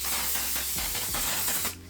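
Short hissing bursts of One Size On Till Dawn makeup setting spray fire in a quick rhythmic series of pumps, close to the mic, then stop abruptly near the end.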